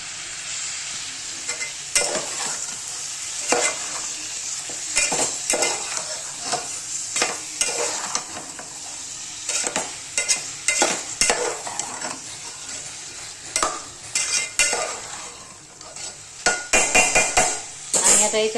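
Chicken curry masala roasting in oil in a pan, with a steady high sizzle and frequent sharp scrapes and clinks of a spoon stirring against the metal throughout.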